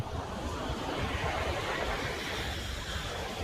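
Sea waves wash onto a quiet beach at Pattani, a continuous broad surf rush with some wind, steady and fairly near, no voices.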